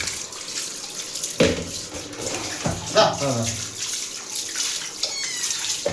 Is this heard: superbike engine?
no